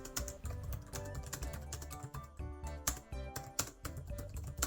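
Fingers typing on a full-size Logitech keyboard, a quiet, rapid run of soft clicking keystrokes in irregular bursts, close and alone.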